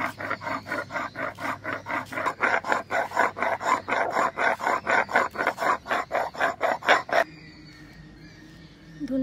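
Coriander is ground into paste on a grinding stone, a steady run of about two dozen rhythmic rasping strokes, close and loud, that stops abruptly before a quiet pause.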